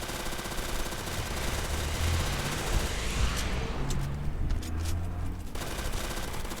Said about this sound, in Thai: นี้ก็ช่วยกันยิงบอสนะ